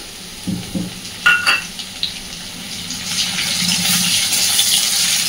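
Chopped onion, a bay leaf and a dry chilli hit hot oil with a few clinks and a quick sizzle that settles into a steady, moderately loud frying hiss, with no talking.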